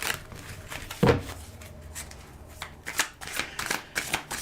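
Tarot cards are shuffled by hand, close and crisp, with a sharp riffle burst near the start and then a run of quicker, softer shuffling flutters and taps.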